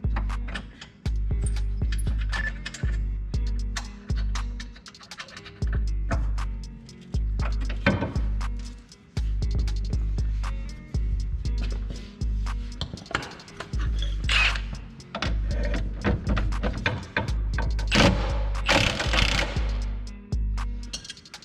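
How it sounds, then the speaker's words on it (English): A ratchet works a bolt loose on a Nissan 370Z suspension, giving close metallic clicking in repeated bursts with brief pauses between strokes and occasional clinks. "We're going to go ahead and take off this bolt as well."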